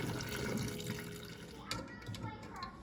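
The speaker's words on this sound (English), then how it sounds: "I'm gonna pour my water off. I don't use a strainer." Water from boiled noodles pours and splashes steadily into a sink without a strainer, a broad rushing sound that thins toward the end, with a voice faintly audible underneath.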